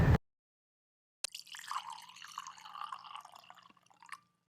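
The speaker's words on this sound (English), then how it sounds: "let's check pouring water" Water pouring from a CapCut sound-effect library, a steady liquid splash and trickle running for about three seconds after a brief silence, ending with a few drips.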